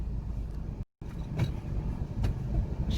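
A Kia Picanto automatic creeps forward at idle without throttle, giving a low, steady engine rumble and road noise with one brief dropout and a few faint clicks.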